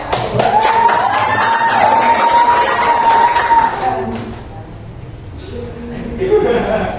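A classroom full of students claps and cheers loudly during a biology lesson, with one voice holding a long sustained call before the noise settles and rises again.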